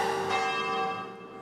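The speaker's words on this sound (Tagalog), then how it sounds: "Pinatunog din ang kampana sa Quiapo Church bilang pagdalamhati sa pagpanaw ni Pope Francis." A church bell at Quiapo Church rings out clearly, with one fresh strike shortly after the start that hums and slowly fades.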